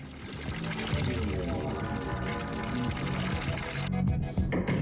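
Water cascades from a waterfall in the video game Hypnagogia, a loud, constant pouring rush that fills the scene and cuts off abruptly near the end.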